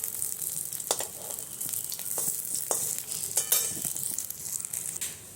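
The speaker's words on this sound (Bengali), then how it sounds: "দেখুন এই সব ভেজে নিয়েছি নারকেলের বড়া" Coconut fritters frying in a small amount of shallow oil, a steady close sizzle broken by several sharp scraping clicks and crackles as they are turned, with no voices.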